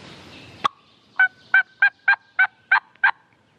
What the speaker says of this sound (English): I just like hearing turkeys gobble.